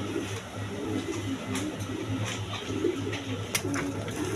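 Chuina pigeons coo softly and repeatedly in a low, throaty rhythm, with faint background clatter and other birds at a market stall.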